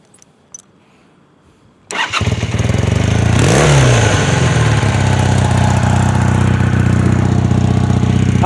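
A 1981 Honda CM400 motorcycle fitted with a Harley 883 exhaust fires up after a short quiet pause, then settles into a loud, steady, close idle with a brief rev as it catches.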